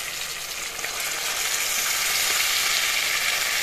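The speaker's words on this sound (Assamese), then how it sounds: "অলপ পানী দি দিম।" Water hits hot fish curry with tomatoes in a pan and sets off a bright, hissing sizzle that swells slightly and holds steady, close up and alone.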